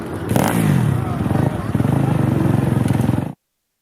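Two-stroke motocross motorcycle at a race, a loud buzzing engine revving hard with rapid pulsing bursts, close by, cutting off abruptly at the end.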